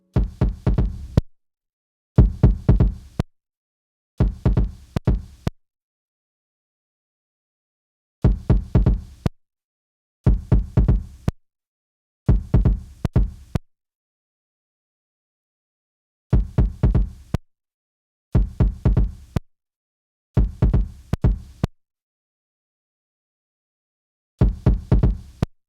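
Kick drum routed through an SSL channel strip EQ, played as repeated short groups of punchy, deep thuds in a steady pattern with silent gaps between phrases.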